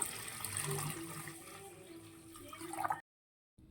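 Water pours steadily into a bowl in a home kitchen while poha is being prepared, a faint, close liquid trickle and splash lasting about three seconds before cutting to silence.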